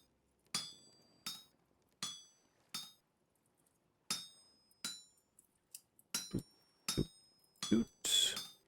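A smithing hammer strikes metal while forging a pickaxe in the video game Vintage Story, with about ten sharp, ringing blows, evenly spaced at first and then quicker and heavier. There is no talk.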